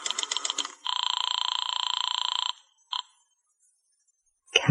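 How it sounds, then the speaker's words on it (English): Telephone ringing on the line in a 1949 radio detective drama: one long electronic ring burst, then a brief short ring after a pause, clear and close, with no talk over it. "I went over to the phone and called Madame Natasha's Temple of the Zodiac"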